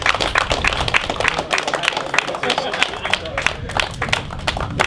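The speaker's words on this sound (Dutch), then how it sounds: "dat zou je misschien nu met een mooi applaus aan ze kunnen" Lively applause from a crowd at a ceremony for final-year players, dense rapid clapping throughout, with some voices mixed underneath.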